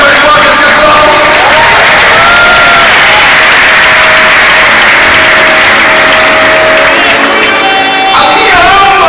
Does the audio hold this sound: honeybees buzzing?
no